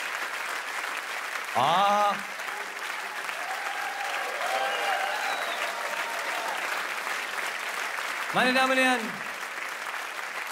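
A theatre audience at a comedy solo show bursts into applause in two short rounds, one early and one near the end, while a performer speaks into a microphone between them.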